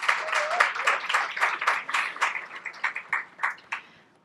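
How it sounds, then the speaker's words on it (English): Audience clapping after a queer poetry reading, a dense burst that thins into scattered individual claps as it fades over a few seconds. "Let's do another round of applause for Jason."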